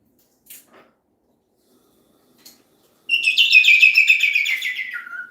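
A pet bird chirps indoors: after a couple of faint ticks, a bright, rapid run of high tweets sounds close and clear, then trails off into a lower, fading note.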